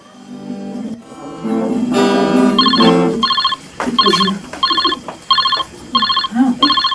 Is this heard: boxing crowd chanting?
no